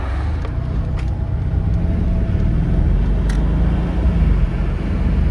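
2013 Mercedes SL550 with fresh AMSOIL 75W-90 differential gear lube driving and lightly accelerating, heard from the cabin as a low, steady engine and road rumble that swells slightly, with a few faint clicks.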